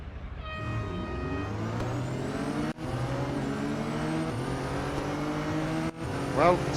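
McLaren Artura GT4 racing at Suzuka in Real Racing 3, its engine note climbing through gears with rising revs, two brief cuts at upshifts, loud and continuous with a short squeal near the end.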